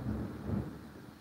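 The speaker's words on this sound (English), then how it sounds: "that's a storm's brewing outside, too, if you heard that thunder" Low, rumbling thunder from a storm outside rolls through in a single muffled swell, fairly loud and carrying no talk.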